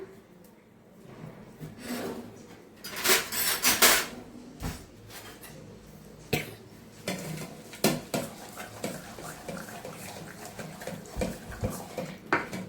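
Cooked green gram dal is mashed in a metal pot, with repeated clanking and scraping strokes and wet squelching, loud bursts between quieter stretches, while someone talks at times.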